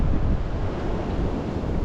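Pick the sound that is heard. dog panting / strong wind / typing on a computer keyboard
strong wind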